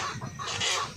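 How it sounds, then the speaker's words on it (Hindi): Sonali chickens at a poultry farm cluck steadily and close by, a busy flock chatter with overlapping calls and no voices. "ये सोनाली मुर्गे है"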